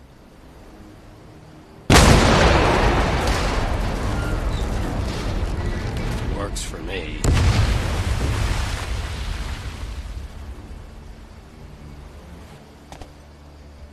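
Loud explosions boom in the World War II game Medal of Honor: Above and Beyond, one sudden blast followed by a second about five seconds later, each trailing off into a long rumbling decay, with a brief line of speech between them.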